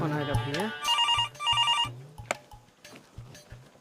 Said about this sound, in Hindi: फोन आएगा भैया।